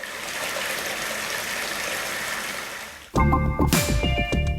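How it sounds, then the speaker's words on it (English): Water runs steadily from a pipe into a bucket, a constant rushing flow for about three seconds, then the pitch shifts abruptly as the bucket fills, with a louder, hollower gurgle and resonant tones at close range. "Fill a bucket with a measuring scale, checking how much water flows into it inside a minute."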